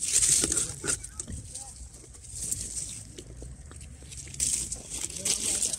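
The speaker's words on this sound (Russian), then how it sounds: "Попали под дождик." Light rain patters steadily across an outdoor fruit orchard while picking plums, a soft continuous crackle with occasional faint bird calls nearby.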